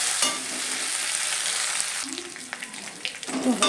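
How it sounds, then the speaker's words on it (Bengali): Onions with ginger-garlic paste fry in a pan for a curry of drumsticks and potatoes. A steady close sizzle runs throughout, and sharper scraping stirs break through near the end. "এবারে আদা রসুন পেস্টটা দিয়ে দিলাম, ভালো করে নেড়ে নেবো।"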